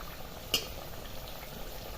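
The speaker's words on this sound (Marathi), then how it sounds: "दोन्ही बाजूने आपले जे भजे आहेत ते फ्राय झालेले आहेत" Potato bhaji fry in hot oil, a faint, steady bubbling hiss with one brief pop near the start, quiet and continuous with no talking.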